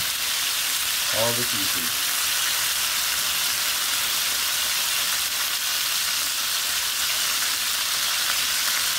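Seasoned chicken pieces for Jamaican brown stew chicken frying in hot oil, a steady hiss and crackle throughout, with a brief spoken phrase near the start.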